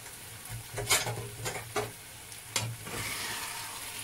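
Cassava and sausages being mixed in a frying pan, a soft sizzle under a few distinct scraping strokes of a utensil against the pan, close and fairly quiet, with no speech.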